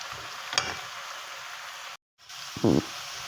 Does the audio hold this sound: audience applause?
no